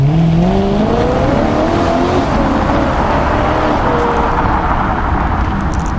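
A 2011 BMW M3 accelerates hard from a standstill, its engine note rising loudly through the revs and then settling into a sustained roar as the car pulls away, with no voices over it.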